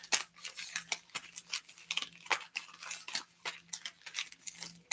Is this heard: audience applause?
no